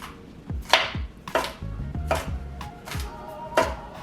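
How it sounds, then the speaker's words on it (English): A knife slicing vegetables and garlic cloves for pickles on a cutting board, several close crisp chops at an uneven pace, with no talking. "I'm just gonna slice this one"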